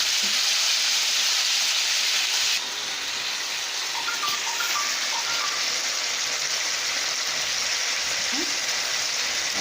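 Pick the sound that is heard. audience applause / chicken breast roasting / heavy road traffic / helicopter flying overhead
chicken breast roasting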